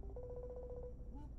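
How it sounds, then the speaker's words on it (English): TechLife Neo smartwatch ringing with an Instagram audio call notification: a faint, rapid pulsing electronic tone repeating for under a second, then a brief rising chirp, quiet against background hum. "we have here the call notification from Instagram audio call"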